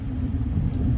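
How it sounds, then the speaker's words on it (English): A car heater blowing inside a parked car with the engine idling, a steady low rumble and fan drone, close and constant with no voices. "Do not mind the heater in the background."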